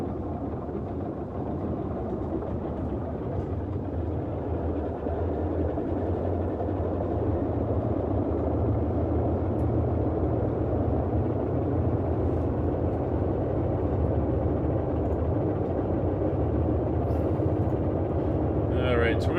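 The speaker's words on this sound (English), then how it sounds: "And we're going to bring the engines up to about 1800 RPM." Twin piston engines of a Boeing 247D airliner in a flight simulator game run up to about 1800 RPM, producing a steady, droning engine roar that holds level throughout, with a faint click near the end.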